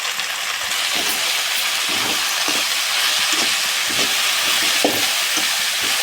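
Pirandai (adamant creeper) sautéing in a pan for pickle gives a steady close sizzle, with occasional soft stirring clicks throughout and no talking.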